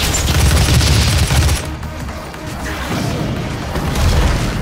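Gunfire in the Doom video game: a dense, loud burst of booming shots that fades briefly and then returns, filling the whole moment with no talking.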